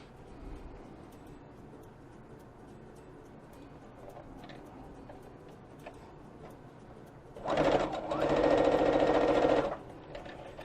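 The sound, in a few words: sewing machine stitching blue fabric for a quilt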